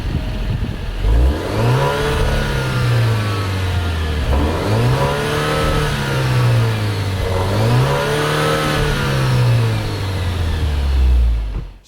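A 2023 Alfa Romeo Stelvio Veloce AWD with a 4-cylinder engine starts and runs, revving up and settling back three times in a smooth, moderately loud drone heard up close with no talk.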